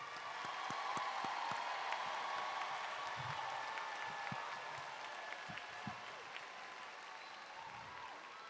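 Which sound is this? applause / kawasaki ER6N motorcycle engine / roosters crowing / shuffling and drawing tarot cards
applause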